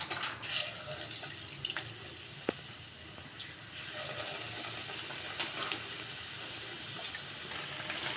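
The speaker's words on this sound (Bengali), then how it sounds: "তেল খুব ভালো করে গরম হয়ে গেছে। এবার আমি একটা একটা করে বেগুনের চপগুলো সব ভেজে" Battered eggplant fritters (beguni) fry in hot oil, producing a continuous, fairly quiet bubbling hiss with a few scattered pops and crackles, close by with no talking.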